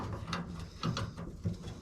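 A 9/16 ratchet wrench clicks through a few short bursts of turning, close and fairly loud, while working on fuel fittings of a 1950 Ford F1 pickup truck.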